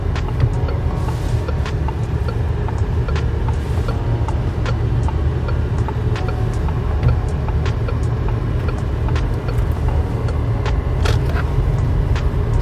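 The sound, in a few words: Peugeot 3008 SUV driving while testing turning radius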